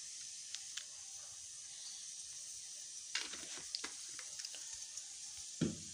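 Puri frying in coconut oil, a soft continuous sizzle and hiss with a few brief crackling bursts, quiet and close, with no talk.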